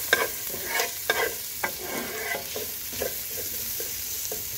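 Chopped garlic frying in a pan as the base for kimchi fried rice: a steady close sizzle with several sharp spatula scrapes and stirring knocks at irregular intervals, no talking.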